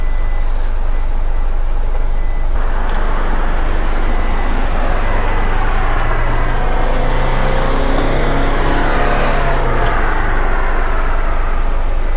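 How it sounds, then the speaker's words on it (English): Car after car passes along a road through Arches National Park, a loud, continuous traffic roar with the sweeping rise and fall of vehicles going by close, one pass swelling near the end. "here you see car after car after car after car passing by"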